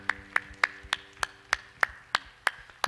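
Congregation clapping in a church, a slow, even rhythm of about ten sharp claps in unison, fairly close and with no talking.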